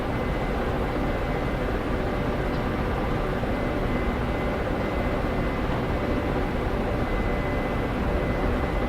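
A Ka-50 helicopter in steady forward flight in a flight simulator gives a constant, dense engine and rotor drone that holds evenly throughout with no variation.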